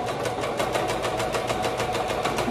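A sewing machine runs a straight stitch on fabric for a toddler maxi dress, producing a steady, rapid mechanical hum with evenly spaced needle beats throughout, close and continuous.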